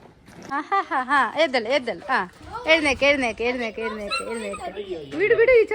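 An injured dog whimpers and yelps in pain while its wound is treated, a close series of high, wavering cries and whines repeating over several seconds.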